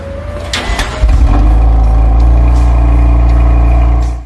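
A sports car with an Akrapovic exhaust system cranks and fires up close by, bursting into a loud, deep, rumbling idle that holds steadily until it cuts off at the end.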